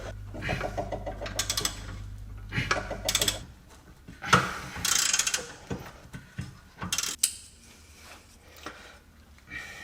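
Socket ratchet breaking loose an 18 mm nut on the rear suspension upper arm of a Jaguar S-Type, with rapid clicking bursts, knocks and metallic clanks at close range and no talk.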